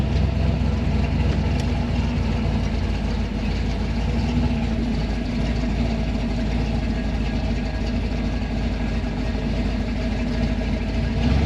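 Loud, steady rumble from the engine of a 1964 Chevy II gasser with a tunnel ram and dual carburetors, heard while driving, a constant low drone that fills the whole stretch without a break.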